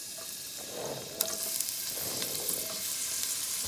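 Onions fry in a pan as the start of a spicy squash dish, a steady close sizzle broken by a few light stirring clicks and scrapes, with no voices.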